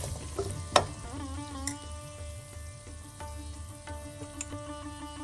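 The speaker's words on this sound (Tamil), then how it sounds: "இஞ்சி பூண்டு பேஸ்ட்டு அந்த எண்ணெயில் நல்லா வதங்கணும். சிக்கன் இதில் ஆட் பண்ணிக்கணும்." Chicken frying in oil with ginger garlic paste gives a soft, continuous sizzle, with occasional clinks and scrapes of a utensil stirring the pan, faint and close.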